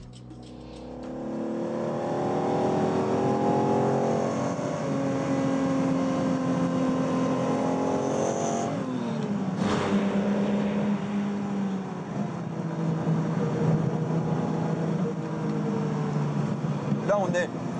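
Vintage Lamborghini sports car engine running steadily and loudly, with a rising and falling harmonic drone as revs shift and a brief sharp burst near the middle.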